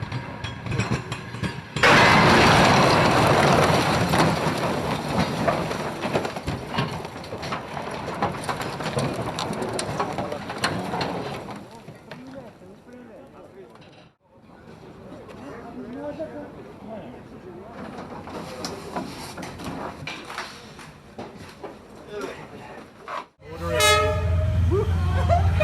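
A train ploughs through a crash-test collision in a long, loud roaring rush of impact and grinding that fades to rumbling, then a sharp burst near the end.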